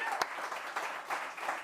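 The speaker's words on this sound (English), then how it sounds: "big round of applause for albums of the week" Faint applause from a small audience at a live talk show in a boat bar, with a short sharp clap near the start and the clapping swelling and fading.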